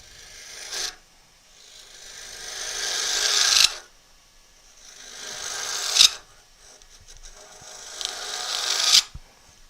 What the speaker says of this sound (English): The noise you're hearing there as I'm back hollowing is completely normal.